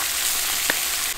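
Deep-fried crabs stir-fried with chili peppers in a hot wok, a steady broadband sizzle running alone through the short moment with one brief louder clack near the end.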